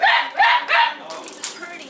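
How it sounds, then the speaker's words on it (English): A few sharp dog barks in quick succession, fairly close, followed by fainter yips and whimpering noises. "Still a little bit of barking."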